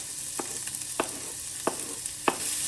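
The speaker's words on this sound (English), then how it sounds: "now that the oil is hot, we're going to add the onions" Onions frying in hot avocado oil in a pan, a steady faint sizzle with a few sharp scraping stirs of a utensil breaking through, no voices.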